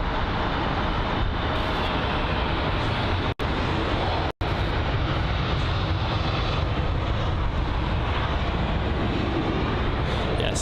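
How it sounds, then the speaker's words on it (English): British Airways Airbus A320neo at London Heathrow, a loud, steady roar of jet engine noise filling the scene, interrupted by two very brief dropouts, with no voices. "The BA, I think that's the A320neo."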